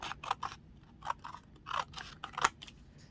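Scissors snip through material to cut a piece off, giving several crisp, close cutting sounds spaced over a few seconds in a quiet room.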